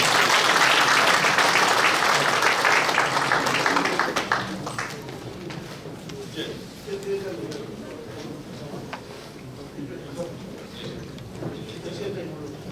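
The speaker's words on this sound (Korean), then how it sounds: "박수 부탁합니다." An audience at a Korean Christian council general assembly claps loudly for the first few seconds, then the applause drops away to a quieter murmur of room noise.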